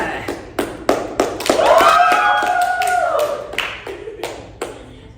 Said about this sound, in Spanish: Denle un fuerte aplauso a nuestras 4 invitadas